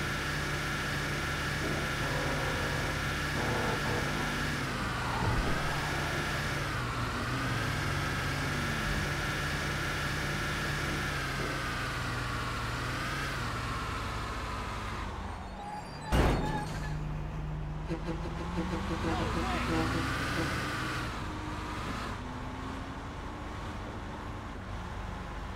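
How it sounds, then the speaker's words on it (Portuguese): Marcopolo Viale MB OH-1420 city bus in GTA V with a steady diesel engine drone that swells and shifts pitch as it accelerates along the road, a single sharp thunk midway, continuous and fairly loud throughout. "Então bora acelerar um pouco aqui na pista e botar o viário pra correr"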